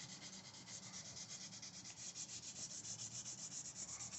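Stainless steel guitar frets being sanded with 400 grit paper: a steady, rhythmic back-and-forth rasping scrub, close and fairly quiet, with no voices.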